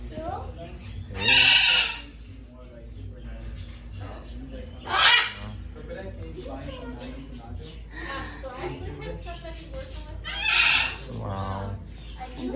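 Large parrots in a parrot retail store give three loud, harsh screeching calls spaced several seconds apart, close by, while people talk quietly throughout.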